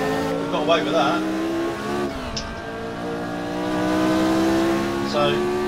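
A race car engine in the Automobilista sim racing game revs up and down through its gears with a rising, harmonic-rich whine and a brief tyre squeal, while someone talks over it.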